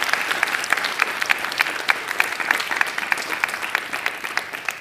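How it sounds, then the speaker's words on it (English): Sustained applause from a conference audience fills the room, dense and steady, with many hands clapping at once and no talk over it. "So give yourself a round of applause"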